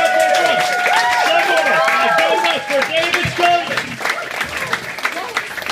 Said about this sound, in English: Start a round of applause in the back of the room.